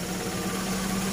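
An engine idles steadily with a constant low hum and a strong single tone, continuous and fairly close, with no talk over it.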